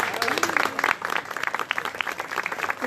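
An audience claps steadily and fills the room at a conference, with a voice in French briefly heard over the start of the applause.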